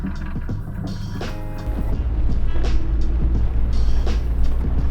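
An overlanding vehicle drives through aspen groves on a beginner trail, giving a steady low engine and road rumble that grows louder partway through, with no talking.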